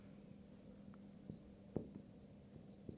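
Pen writing out a maths equation on paper or board: faint scratching strokes with a few sharper taps, quiet and close against a low steady hum, no talk.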